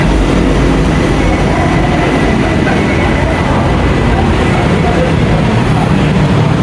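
A train rumbles loudly and steadily at a station near Chatuchak Market in Thailand, with dense, continuous noise and faint rhythmic clatter from the rails and carriages, and no clear pauses.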